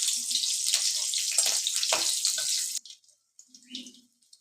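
Spice tempering with three green chilies fries in hot oil, a dense, steady sizzle that cuts off abruptly, followed by faint scattered clinks and a low murmur.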